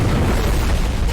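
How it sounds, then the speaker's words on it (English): A dense, continuous rumbling blast of an explosion from a Breaking Bad episode, loud and heavy in the low end, filling the whole brief moment without pause. "Comes slowly walking away from an exploding object."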